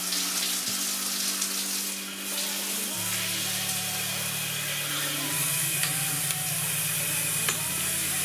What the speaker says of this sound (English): when you switch it to the single head mode, then you get that powerful jet out of this spa